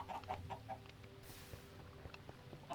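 Chickens in Minecraft give a few soft, quick clucks near the start, then occasional faint ones over a quiet ambient background.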